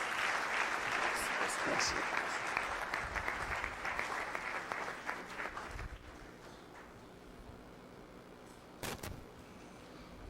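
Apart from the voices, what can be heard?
church congregation applauding to welcome the pastor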